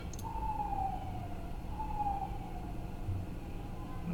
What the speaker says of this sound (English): now you hear the police sirens in the background